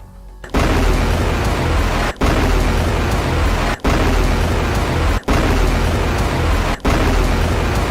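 A Hezbollah rocket barrage striking northern Israel: a loud, continuous roar of blast noise fills every moment, broken by several abrupt cuts between separate bursts and with no voices.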